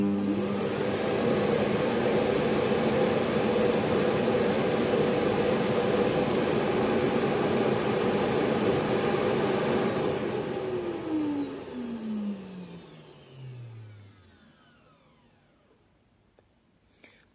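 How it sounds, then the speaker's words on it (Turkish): A Xiaomi X10+ robot vacuum dock's loud suction motor whirs steadily, then powers down with a falling whine that fades to near silence. "Bildiğimiz normal süpürge gibi bir sesi var."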